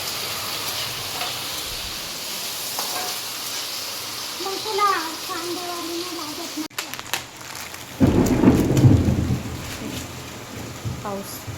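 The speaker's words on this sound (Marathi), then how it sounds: "पाऊस तिकडचं आहे ते बघ" Steady rain hissing outdoors, with a deep rumble of thunder swelling partway through; faint voices and household sounds come and go underneath.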